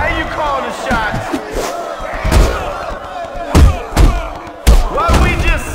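Crowd shouting and cheering in the Def Jam Fight For NY fighting game at a club venue, loud and busy, with heavy punch thuds and slams breaking through, and voices calling out over the din.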